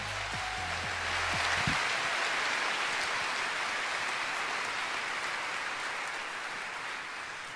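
Dense, hissing applause from a large audience at a university fashion show, steady and sustained, gradually easing off toward the end.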